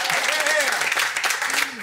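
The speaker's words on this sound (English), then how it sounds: "Give yourselves a nice big round of applause." Audience applause fills the room at the opening of a music and comedy variety show, a steady burst of clapping with a voice speaking over it throughout.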